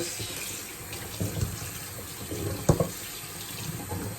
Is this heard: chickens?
no